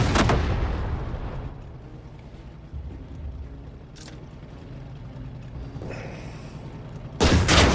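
A tank cannon fires in the video game Headquarters: Cold War, with a loud booming blast at the start and another sharp report at the end, separated by quieter rumbling background.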